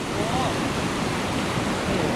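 Strong, forceful water pours down a waterfall in Lam Takhong, producing a loud, continuous broadband rush with no break throughout.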